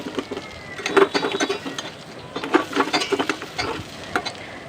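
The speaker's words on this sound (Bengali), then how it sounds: "এবার আমি সরিষার তেল দিয়ে দিলাম, আস্ত জিরা দিলাম তেলে, পেঁয়াজ কুচি, কাঁচামরিচ কুচি হালকা ভেজে নেব" Chopped onion and green chili fry in mustard oil with whole cumin, giving bursts of crackling sizzle and stirring scrapes that rise and fall in uneven clusters.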